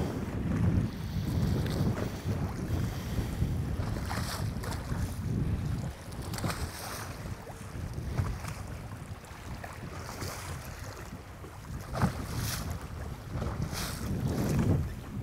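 Steady wind gusts roar across the microphone around a boat tied to a mooring buoy, with lapping water and hull noise underneath, loud and continuous throughout.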